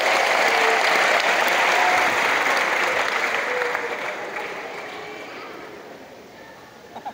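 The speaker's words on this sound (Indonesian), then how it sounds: "Tepuk tangan" Loud applause from a seminar audience of students, dense clapping that gradually fades away over several seconds.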